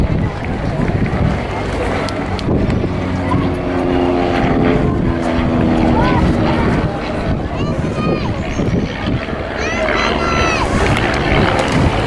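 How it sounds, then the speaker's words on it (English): A Yak-3 propeller fighter flies past at an airshow with a loud rough engine drone, while an announcer talks over it throughout. "Yak 3, and I'm so pleased this is in the flying programme"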